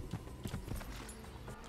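Horse hooves in Assassin's Creed, a faint, quick sequence of soft clip-clop impacts at a galloping rhythm over low background noise.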